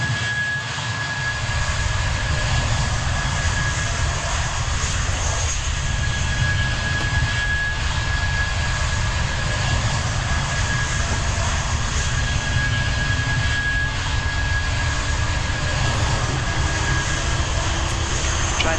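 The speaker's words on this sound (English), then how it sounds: "you got the jet sounds there." Jet aircraft engines roar in the Train Simulator 2019 game, a loud, steady, continuous drone that holds unchanged throughout with no speech.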